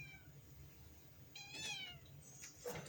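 A cat meows twice, a drawn-out mew and then a shorter one, fairly close but quiet over a low background hum.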